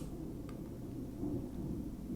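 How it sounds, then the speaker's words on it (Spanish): Low thunder rolls on a rainy Sunday in Florida, a faint, distant rumble that blends with the steady hiss of rain and carries on without a break. "Se escuchan unos truenos,"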